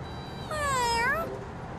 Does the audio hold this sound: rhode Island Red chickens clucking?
no